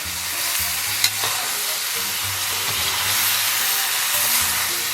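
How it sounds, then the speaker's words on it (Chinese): Tomatoes and green chili peppers stir-fried in a wok, with a steady broad sizzle and hiss and a soft scrape or clack of stirring near the start, continuous and close with no talking. "然后把西红柿和青辣椒给它下里边，再给它简单煸炒一下"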